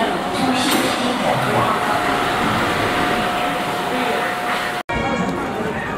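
Metro train rumbling and whirring with a steady hum and a faint sustained tone, loud and close, broken by a brief cut near the end, with people talking over it.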